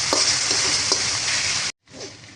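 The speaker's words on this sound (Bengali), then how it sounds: "আমি এখন কষানো মশলার মধ্যে আলুগুলা দিয়ে দিচ্ছি।" Potatoes go into a pan of fried ground spice paste with oil separating, giving a loud steady sizzle with a few scraping stirs that cuts off briefly, then resumes more softly.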